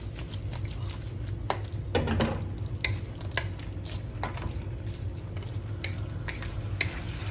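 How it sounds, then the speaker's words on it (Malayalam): Fried chicken pieces are stirred into a sizzling chilli chicken masala in a pan, giving a steady close frying hiss with repeated scraping stirs and clinks. "ചിക്കൻ ഇട്ട് നല്ലതുപോലെ ഒന്ന് മിക്സ് ചെയ്യാം."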